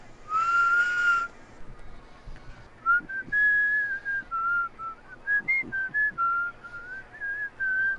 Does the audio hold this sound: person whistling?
yes